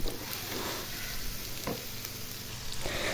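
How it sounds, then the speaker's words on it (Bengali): Ginger, garlic and ground turmeric, chili and coriander sizzling in a hot pan, a dense continuous fry with a few spoon scrapes, close and steady without speech. "আমি আদা রসুনটা ভেজে নিলাম। এখন মশলাটা দিয়ে দিব।"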